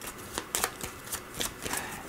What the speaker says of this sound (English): First, take the replenish deck and shuffle it.